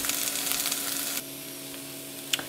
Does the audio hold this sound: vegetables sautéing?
yes